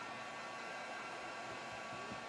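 Hair dryer heating chalked felt for mini heart pillows, a steady loud whooshing blow of air held without a break.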